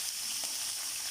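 Steady, close sizzling of fish frying in hot oil, a constant hissing crackle with no pauses.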